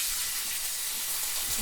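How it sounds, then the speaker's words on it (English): Steak searing at very high heat in a hot cast iron pan with avocado oil and a tablespoon of butter, giving a steady, fairly faint hiss and sizzle with no talk over it. "we are going to sear it at very high heat"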